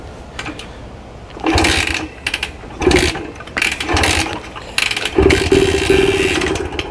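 A 1965 Montgomery Wards Benelli scrambler motorcycle is cranked with the throttle opened, giving repeated bursts of mechanical whirring and rough sputtering that rise and fall in loud, close spurts without catching into a steady idle.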